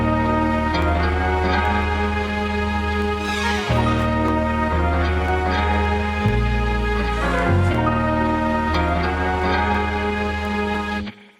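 A full produced beat layering a sample with flute and string runs, dense and loud throughout with steady bass and pitched melodic layers, a few brief breaks and flourishes, playing without any voice before cutting off at the end.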